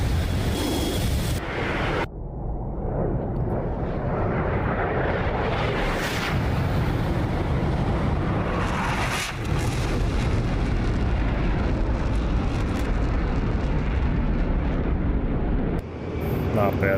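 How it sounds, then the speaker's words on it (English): Jet engine roar from Air Force One during a flyby in the DCS flight simulator, a loud continuous rushing drone that swells and shifts across the whole stretch, with brief dips and a sharp cut near the start. "Let's see if I can get us a cool flyby from Air Force One's perspective."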